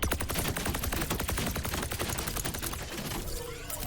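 Rapid bursts from Lifeweaver's Needler-like primary weapon in the Overwatch-style video game, firing two projectiles per shot in a dense, continuous volley of sharp repeated pops, loud and close, with no talk.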